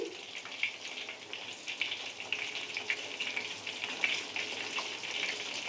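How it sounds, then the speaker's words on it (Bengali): Chicken pakoras fry in oil in a wok, giving a steady, close sizzle with crackling bursts throughout and no talk. "এইগুলো এবার ভাজবো, মানে ভাজবো কি ভাজছি, মানে কড়ায় তেল দিয়ে দিয়েছি"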